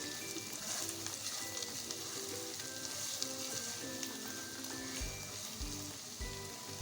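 Beef being stirred with spices such as white pepper, cumin powder and salt in a hot pan, a steady sizzle of frying under continuous scraping and stirring, with background music playing throughout.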